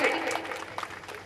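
Children clapping at a school annual function, a short burst of scattered, fairly faint applause with an adult voice speaking over it.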